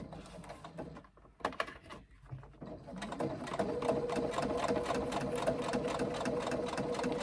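An industrial sewing machine top-stitches a tote bag: a few short bursts of stitching, then a steady, fast, rhythmic mechanical chatter of the needle that runs on continuously.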